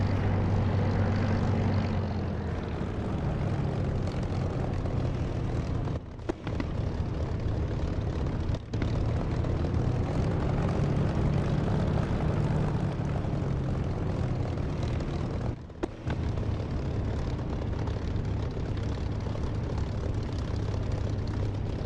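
Propeller aircraft engine in the DCS flight simulator game, a steady droning hum running throughout with a few brief dropouts, loud and alone.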